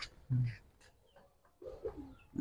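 A Giribaz pigeon, a hen bird, coos in a few short low bursts close by, with quiet gaps between calls.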